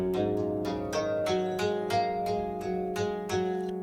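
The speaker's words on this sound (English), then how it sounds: "What you are hearing is the second iPad that is sending audio through the USB audio interface" GarageBand instrument on a second iPad played through a USB audio interface, a steady run of about ten plucked, bright synthetic notes in an even rhythm over sustained tones, clear and alone.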